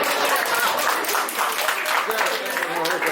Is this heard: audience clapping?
yes